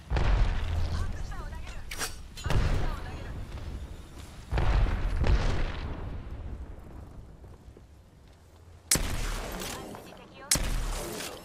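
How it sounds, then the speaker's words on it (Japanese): Explosions and gunfire in the video game Apex Legends: several loud booming blasts with decaying rumbles, separated by brief quieter gaps, with sharp bursts near the end. "爆発するぞ。"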